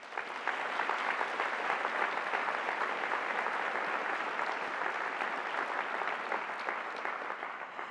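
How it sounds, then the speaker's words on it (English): Steady audience applause at a School of Science advanced degree graduation ceremony, a dense even wash of clapping from a large hall crowd that holds at a constant level for eight seconds. "Let's applaud them all."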